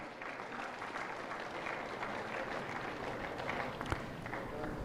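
Audience applause at an award ceremony for a national-level World Elephant Day celebration, a steady, moderately faint wash of many hands clapping heard from a distance, continuing evenly throughout with a soft background murmur.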